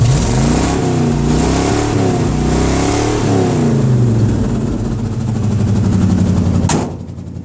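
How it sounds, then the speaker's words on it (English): A barn-find motorcycle with its stock exhaust rotted off revs hard and raw, engine pitch climbing and falling in repeated swells for several seconds before cutting off abruptly, loud and close. "That's what it sounds like when the stock exhaust is rotted off"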